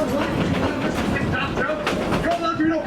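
Tweetsie Railroad train cars roll steadily on the tracks nearby, a continuous clattering rumble with voices talking over it.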